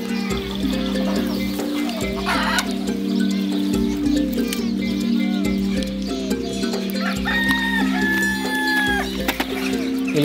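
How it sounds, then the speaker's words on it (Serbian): A chicken clucks close by among sheep on a farm, with a steady loud background hum and scattered animal and bird calls throughout. "Upravo kokoška oterala ovce."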